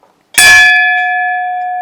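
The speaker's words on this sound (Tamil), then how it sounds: "ஒரு கோயில் மணி வந்து வாங்கி மாட்டியிருக்கவங்க." A brass temple bell hung inside a home gives one loud, bright strike whose clear ringing tone lingers and slowly fades, with no talking.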